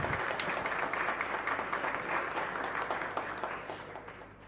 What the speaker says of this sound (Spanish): Para ellos también un fuerte aplauso y muchas gracias.